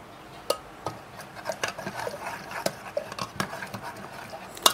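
A spoon stirring and mashing a gram flour and spinach mixture in a pot, with repeated scraping knocks and clinks of metal at an irregular rhythm, close by, with no talk.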